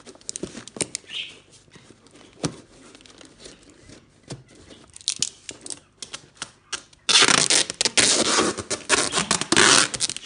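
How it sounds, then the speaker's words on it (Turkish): Packing tape pulled from a roll and pressed onto a rectangular cardboard box used to ship an orchid: quiet crinkling and scraping at first, then a loud, sustained ripping screech of tape unspooling near the end. "Bant sesinden nefret edenler varsa aramızda, videonun sesini kısabilirler."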